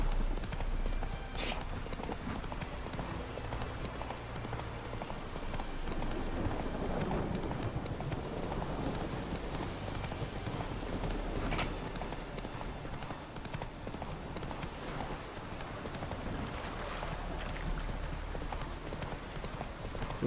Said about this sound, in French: Là, par contre, il file le cheval.